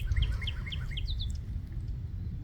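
A bird in a spring garden gives a quick run of sharp, repeated chirps, each dropping slightly in pitch, over a steady low outdoor rumble.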